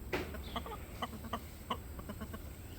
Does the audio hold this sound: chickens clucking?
yes